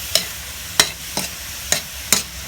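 Fish stir-fried in a pan for a holy basil stir-fry: five quick, sharp spatula strokes scrape through the pan at a loose, even pace over a faint sizzle, close by.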